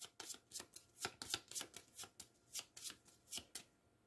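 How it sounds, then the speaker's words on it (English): Playing cards being shuffled close up, a series of quick riffling bursts in an uneven rhythm, with no talking. "I'm going to shuffle the boiler room cards"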